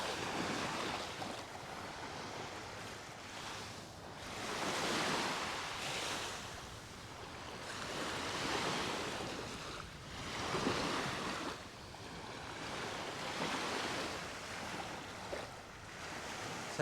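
Waves washing onto the beach at Palmanova, Mallorca, in slow rolling surges that swell and fade every few seconds, with wind buffeting the microphone and no talk.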